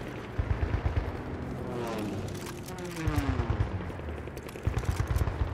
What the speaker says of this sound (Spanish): vamos a cambiar a la ametralladora normal